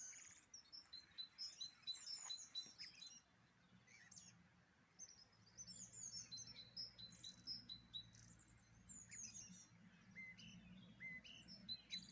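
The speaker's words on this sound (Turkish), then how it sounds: "Hiç konuşmayayım, siz kuş seslerini dinleyin." Many small birds chirp and tweet in bright, overlapping bursts, fairly faint and distant, over a quiet outdoor background.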